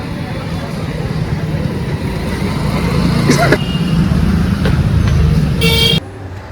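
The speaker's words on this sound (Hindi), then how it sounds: "अब तो भाई साहब बहुत ज़्यादा ट्रैफिक हो चुका है" Busy traffic on a road through a residential colony: a constant close rumble of cars and buses, several short horn toots around the middle, and a louder sustained blast just before the noise abruptly thins out, with no speech.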